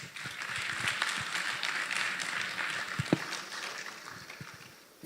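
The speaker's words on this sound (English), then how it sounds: "Please, one more time, a round of applause." An audience at the official launch of AGORA gives a round of applause for the Minister for Works and Housing, a steady, moderately distant wash of clapping that fades slightly toward the end.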